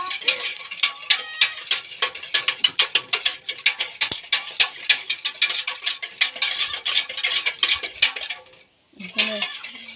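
A spoon scraping and clinking rhythmically against a bowl while stirring a cassava flan mixture in a rural home kitchen, steady repeated strokes close by, with a short pause near the end and faint talk in the background.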